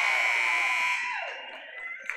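A loud electronic buzzer sounds at the end of the first quarter in a high school boys basketball game, a sustained harsh tone lasting about a second before fading into gym noise.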